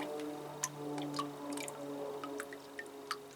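Water draining from a freshly watered plant pot, with irregular close drips and small splashes falling one after another over a steady low hum, no voices.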